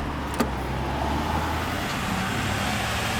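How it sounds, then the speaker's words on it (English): A truck passes on a road beside a parked 1989 BMW 320i E30 Touring, a loud, steady low engine rumble and tyre roar filling the whole short moment, with a brief knock near the start. "let this truck go by."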